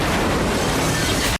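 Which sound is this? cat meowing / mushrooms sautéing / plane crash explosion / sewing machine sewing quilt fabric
plane crash explosion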